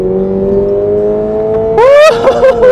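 A Subaru BRZ in sport mode hums at steady revs, then the engine suddenly revs hard, rising sharply and dropping back in a loud, close burst near the end.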